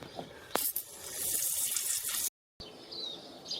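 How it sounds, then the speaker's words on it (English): Degreaser sprayed onto an oily BMW 318iS engine part, then a close, steady rush of water washing it off, with a brief hiss at the start, a short gap of silence, then more running water. "I'm going to give this a quick squirt of degreaser and wash it off."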